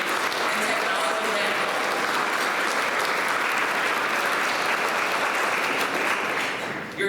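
Audience at a Martin Luther King Jr. luncheon and justice award event applauding a fourth-grade award winner, sustained dense clapping from a large crowd that fades slightly at the end.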